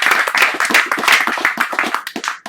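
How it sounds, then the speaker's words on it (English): Round of applause from a poetry reading audience, brisk crowd clapping that rises, holds steady and fades out within a couple of seconds. "Let's give George a round of applause."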